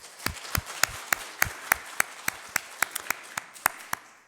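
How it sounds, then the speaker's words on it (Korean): A church congregation claps at a Sunday worship service: about fifteen sharp, evenly spaced claps in a steady rhythm, fairly close and distinct, with a quiet room tone between them and no talking. "올 한 해 우리의 삶을 지켜주신 하나님 앞에 우리 영광의 박수 한번 올려드릴까요?"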